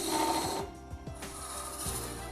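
A Robert Sorby Sovereign Ultima hollowing tool carving into wood on a lathe, giving a close, scraping hiss broken by several sharp, irregular clicks and knocks as the cut bites, with no voices.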